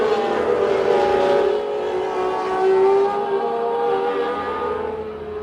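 Formula One cars race down a long straight at the Brazilian Grand Prix, a high engine whine rising and falling steadily as the cars scream past at a distance, loud and sustained with no talk.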